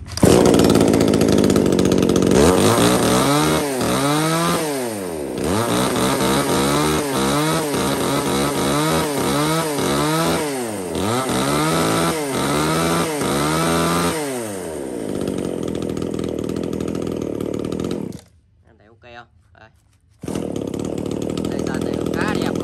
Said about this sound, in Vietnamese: Con này thì về phù hợp cho anh em cắt những khúc gỗ đường kính khoảng tầm 20cm đổ lại.